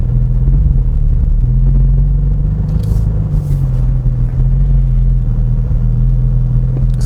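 A 2021 Porsche 718 Boxster GTS 4.0 engine in sport mode drones with a steady, loud low rumble from inside the cabin as revs hold high while driving, with no speech.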